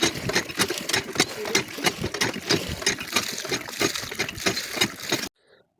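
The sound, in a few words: hand pump bailing water out of a fishing boat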